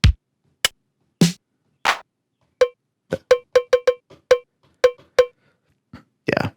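Dry LinnDrum core kit drum machine hits play one at a time with short gaps: a kick, snare-like cracks, then a quick run of clicky cowbell-like taps and a final crash.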